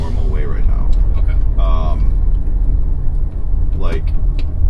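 A 1992 Volvo 240 cruising along a road, its engine and tyre rumble a steady low drone heard from inside the cabin, with people talking over it throughout.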